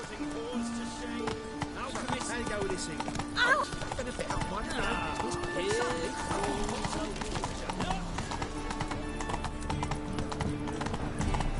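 Roach the horse galloping in The Witcher 3, rapid rhythmic clip-clop hoofbeats with a brief whinny, layered under game music and talking.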